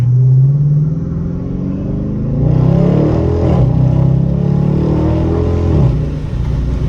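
A Dodge Charger R/T with a muffler delete gives a deep, close exhaust rumble that swells as the engine revs up and settles back, heard alone without talk.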